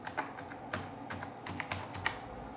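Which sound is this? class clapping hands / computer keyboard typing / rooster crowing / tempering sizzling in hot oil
computer keyboard typing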